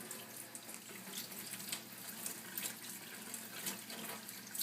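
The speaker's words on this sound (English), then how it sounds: "And I'm going to take this and rinse this off." An air purifier filter is rinsed under a running kitchen tap, giving a steady, soft hiss and splash of water that continues throughout without talk.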